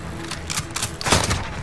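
Gunfire in Call of Duty Modern Warfare, a string of sharp cracking shots that build to a louder burst near the end, with no break in the dense game soundscape.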